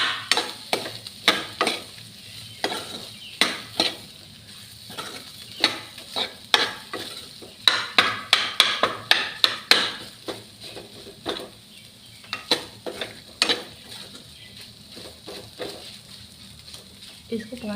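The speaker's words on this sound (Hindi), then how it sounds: "इसको 5 मिनट हम भूनेंगे।" Aloo kachori potato filling is stirred and roasted in a pan: a steady run of close, rhythmic spoon scrapes, dozens of them, some quick clusters, over a light sizzle.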